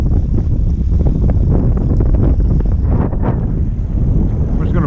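Wind rushes across a boat during ice-out fishing on Sebago Lake, Maine, producing a loud, continuous low rumble and buffeting on the microphone with no pauses.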